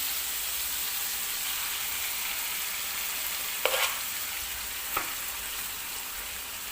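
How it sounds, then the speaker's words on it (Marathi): Cooked rice is tipped into sizzling masala in a wok, a steady close frying hiss broken by two brief scraping clatters from the spoon. "हा जो शिजवून घेतलेला भात आहे तो कढईमध्ये टाकून घ्यायचा आहे"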